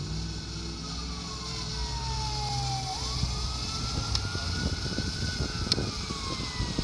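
A siren wails and sweeps in pitch, rising and falling as it passes at a distance over a steady low rumble of engine and wind noise.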